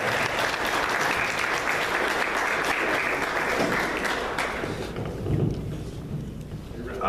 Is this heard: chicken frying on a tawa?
no